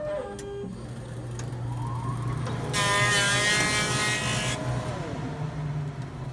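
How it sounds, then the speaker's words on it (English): Horizon BQ160 PUR book binder notching a book spine and applying glue, a steady mechanical hum with rising motor whines and a loud grinding stretch in the middle, close and continuous. "on the first pass, we're getting notching of the spine, and then on the way back, we'll get notching and some gluing"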